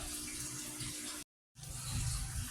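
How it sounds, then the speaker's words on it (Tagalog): A small waterfall runs in a paludarium, a steady close trickle and splash of falling water that cuts out briefly mid-clip and then resumes, with no talking. "So, ito na po yung ating waterfalls."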